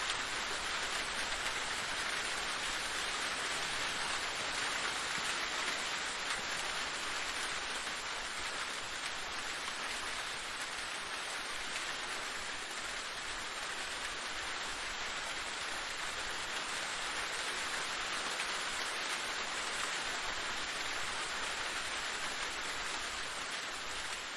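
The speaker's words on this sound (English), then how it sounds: "Oh, great. It's raining." Rain falling in the medieval survival game Medieval Dynasty, a steady soft hiss of rainfall that holds evenly throughout with no talk.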